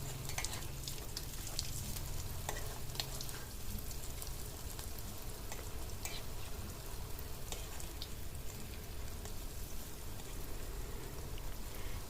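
Potato fritters (bergedel kentang), crowded into too much at once, fry in oil with a dense, even crackling sizzle that holds steady throughout, close up, with no voices.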